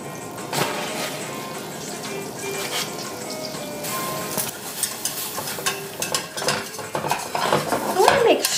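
Flour being stirred into melted butter in a pan for a croque-monsieur sauce, with close scraping and clinking of a utensil against the pan over a soft sizzle, growing busier and louder toward the end.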